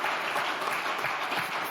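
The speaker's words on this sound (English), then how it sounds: "that deserves some applause" An audience at a health policy summit applauds steadily, a dense, even wash of many hands clapping that holds at full strength throughout with no voices standing out.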